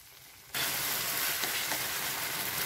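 Torn bread pieces hit hot sugar in a pan for bread halwa, and after a brief quiet moment a loud, steady sizzle and bubbling erupts and continues close up.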